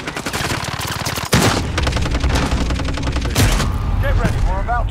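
Dense, continuous gunfire from the video game Call of Duty, with rapid automatic bursts and a heavy boom about a third of the way in, running steadily throughout with a brief dropout before the blast.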